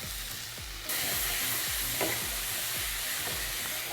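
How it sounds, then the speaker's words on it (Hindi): Chopped tomatoes cook with spice mix, salt and coconut in a pan for a South Indian paneer Chettinad gravy, giving a steady sizzle that gets louder partway through, with a regular scraping stir repeated about every half second. "अब टमाटर को पकाना है, तो जैसे अनियन टमाटो मसाला पकता है, कुछ कुछ वैसा ही है।"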